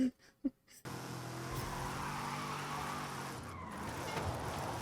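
An Aston Martin DBS in Forza Horizon 5 roars and drifts with a continuous, loud engine drone and tyre skid after a short quiet start, then holds steady as the car slides.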